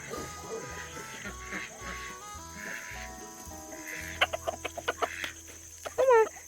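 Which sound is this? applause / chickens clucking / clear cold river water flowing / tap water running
chickens clucking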